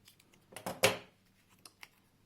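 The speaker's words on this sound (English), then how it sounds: "Simply cut rectangles, cut a small notch on each side." Scissors snip small notches into cut rectangles of card for a crochet yarn holder, making a few quick close snips in a short cluster, then fainter clicks in a quiet room.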